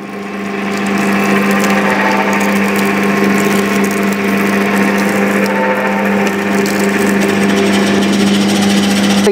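A three-roller sugarcane juice machine crushes cane, its motor starting up and then holding a loud, steady mechanical whine and hum with a strong low drone, running alone without talk.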